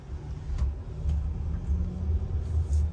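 A 2021 Jeep Grand Cherokee L 4x4 Overland idles and pulls onto the road, a low, uneven engine rumble heard from inside the cabin with a few faint clicks and no voices.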